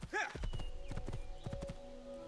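A horse in the Assassin's Creed II video game neighs briefly, then its hooves clip-clop in a quick, regular rhythm at moderate volume, with faint game ambience underneath.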